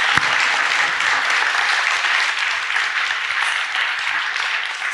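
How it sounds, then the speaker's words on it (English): Audience applause for panelists after a gamification panel discussion, a dense, even roar of many hands clapping, steady and loud from start to finish. "Let's give them a round of applause."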